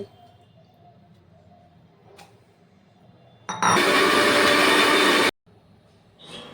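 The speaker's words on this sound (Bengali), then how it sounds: "এখানে চারটে কাঁচা লঙ্কা আর তিনটে শুকনো লঙ্কা নিয়ে একসাথে বেটে নেব" An electric blender grinds ginger with four green and three dried chillies, roaring loudly for nearly two seconds with an abrupt start and stop, set between quiet room stretches.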